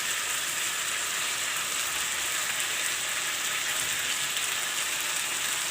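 Ginger garlic paste sizzles and spatters in a hot pan for a mutton curry, a loud, steady hiss of frying heard close and without a break.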